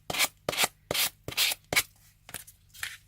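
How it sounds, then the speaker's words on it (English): A sanding block rubs along paper edges on MDF or greyboard board, giving a series of rhythmic, close rasping strokes, roughly six or seven passes with short pauses between them. "then you come in with your sanding block"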